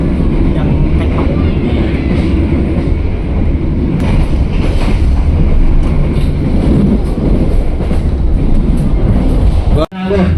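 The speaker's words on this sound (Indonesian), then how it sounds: "Sesaat lagi kereta api Motis akan tiba di stasiun Arjawinangun." A Motis passenger train rumbles along steadily, a loud continuous rolling drone heard from inside the carriage, with a short sharp burst near the end.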